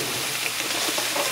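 Onions and peppers frying in a pan with venison cooking nearby, a soft, steady sizzle with faint stirring, quiet and close, no voices.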